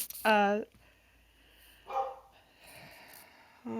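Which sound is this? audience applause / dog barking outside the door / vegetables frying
dog barking outside the door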